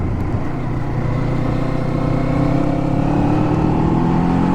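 A 2024 Kawasaki Eliminator cruiser motorcycle engine climbs through its revs with a steady, rising drone while riding, heard close and continuous under wind rush.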